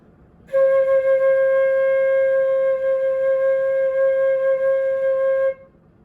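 A single flute note, C, is held steadily for about five seconds, clear and pure, starting and stopping cleanly in quiet surroundings.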